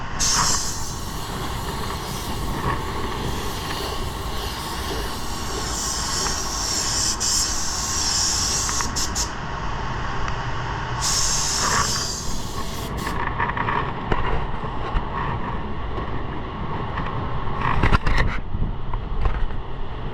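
An automotive spray gun hisses steadily in long passes as color goes over blue for a two-tone paint finish, with brief pauses between passes and shop noise underneath.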